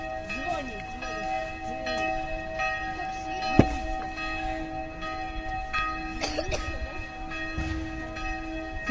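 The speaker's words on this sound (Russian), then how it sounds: "Да, там звонарь колокола бьет. 12 часов." Church bells rung by a bell-ringer at noon in Prague, ringing out in sustained, overlapping tones with a sharp strike near the middle, heard over steady outdoor city ambience.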